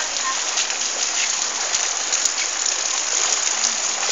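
Rain pours onto a flooded street in Mongaguá, a loud, steady hiss of water splashing close by with scattered sharper splashes throughout.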